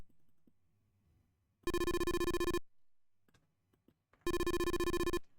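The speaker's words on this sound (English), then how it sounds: "Oh, the phone. Answer it." Two bursts of electronic telephone ringing from the Famicom game Famicom Tantei Club Part II, each a loud buzzy chiptune ring about a second long separated by a short silence.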